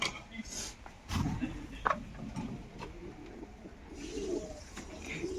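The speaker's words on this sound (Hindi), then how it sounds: "देखिए पूरा लॉफ्ट भरा हुआ है कबूतर से" Soft cooing and low murmuring calls of fancy pigeons fill an enclosed loft, with scattered rustles and a steady background hum.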